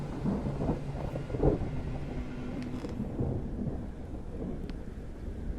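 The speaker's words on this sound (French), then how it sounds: "maintenant il fait orage" Low rumbling thunder from a video game storm in I'm Counting to 6 rolls under steady rain-like noise, a dull boom swelling briefly before fading into a continuous stormy wash.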